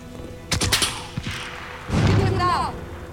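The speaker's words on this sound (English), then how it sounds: "Those shots came from the highway!" Gunfire in Call of Duty: Modern Warfare (2019), a couple of sharp shots early on followed by a louder burst of gunfire and mechanical clatter, with battlefield commotion and a whistling tone near the end.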